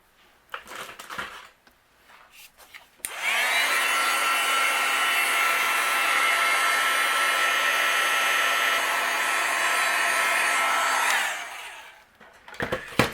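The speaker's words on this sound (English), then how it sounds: "I'm going to use my heat gun and I'll melt this" A heat gun blows hot air over embossing on a handmade card, a loud steady close whir that starts abruptly, holds for about eight seconds and cuts off, with light handling noises before and after.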